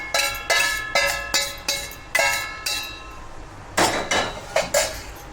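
Roasted nuts slide and clatter as they are tipped out of a metal pan for nuts laddu, giving a run of sharp, ringing metallic clinks in bursts, close and fairly loud.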